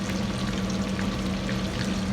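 Marinated chicken for chilli chicken frying in hot, clean oil, a steady dense crackling sizzle heard up close throughout, with no talk over it.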